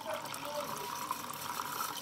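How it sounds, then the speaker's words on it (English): Water from a tap fills a pot, a steady broadband rush with a continuous, even level throughout and no talk. "get some water into this pot"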